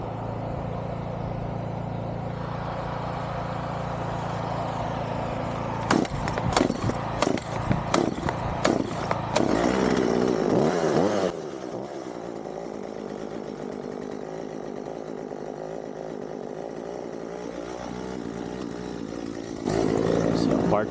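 A small chainsaw trimming wooden beams while milling with a homemade jig, its engine droning steadily close by with bursts of revving and cutting in the middle, then idling and revving up again at the end.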